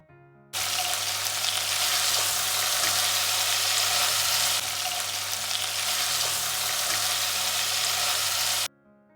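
Marinated chicken fries in melted butter in a pan with a loud, continuous hissing sizzle that starts suddenly, holds steady for about eight seconds and then cuts off, with no talking.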